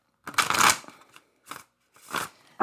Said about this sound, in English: So shuffle them out better.